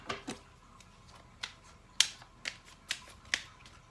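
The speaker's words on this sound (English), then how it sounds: "I just have such a hard time shuffling cards sometimes" Tarot cards are shuffled by hand in a quiet room, giving a series of short, crisp riffles and snaps spaced irregularly, close and fairly faint, with no talking.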